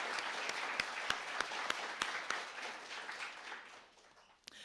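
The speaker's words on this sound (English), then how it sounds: "Let's all have another round of applause for our very generous sponsors." An event audience gives a round of applause for sponsors at a student news awards ceremony, steady clapping with a few sharp distinct claps standing out, fading toward the end.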